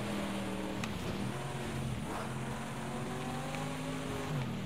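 An Aston Martin race car engine drones steadily on a dirt track in Project Cars 2, a constant mid-level hum with slight pitch shifts as the car slides loosely, and no voices over it.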